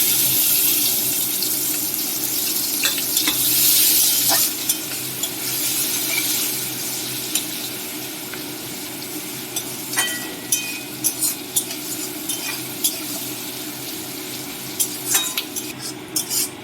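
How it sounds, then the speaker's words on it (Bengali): Chopped onion frying in oil with whole cumin and bay leaf in a home kitchen, a continuous sizzle joined by running tap water, clinks of utensils and stirring scrapes, close with no talk. "পেঁয়াজটা ভাজা হয়ে গেছে।"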